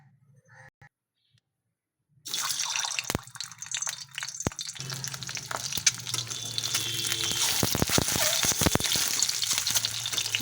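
Young home-grown eggplant frying in oil in a pan, a quiet start giving way to a steady, loud sizzle with sharp crackles and pops building over the seconds.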